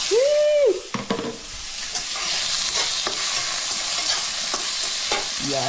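Garlic and onion sizzle loudly in a hot pan as a spoon stirs with occasional clinks, a continuous frying hiss after a brief tonal squeak at the start.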